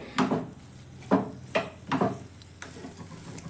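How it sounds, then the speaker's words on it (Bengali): Potato filling being stirred in a pan, several soft scraping strokes with a spatula in a loose rhythm, close and moderate over a faint background sizzle. "খুব ভালো করে লবণটাও মিশিয়ে নিয়ে আর কিছুক্ষণ নাড়াচাড়া করে নিলেই পুরটা একদম রেডি হয়ে যাবে"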